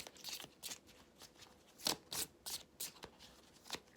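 Tarot cards handled during a reading: a series of quick, soft papery flicks and slides in irregular bursts, close and faint, with no voice.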